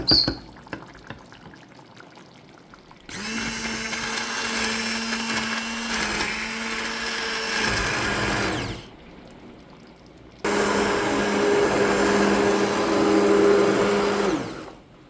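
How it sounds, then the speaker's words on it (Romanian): A blender whirs loudly in two long bursts with a short pause between, its motor pitch holding steady as it purées thick tomato soup. "Să o facem cu blenderul."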